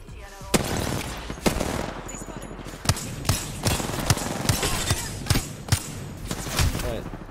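Panic firing in Apex Legends Season 7 gameplay, a string of sharp separate shots at an irregular pace over a busy game backdrop.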